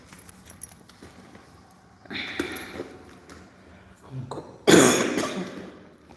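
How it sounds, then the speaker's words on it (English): A few harsh coughs and throat-clearing bursts, close to the mic, the last one loudest, with faint rustling in between. "don't mind the way I'm coughing"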